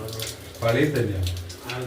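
Water runs steadily from the tap of a small instant electric water heater, a close, continuous splashing flow with people talking over it.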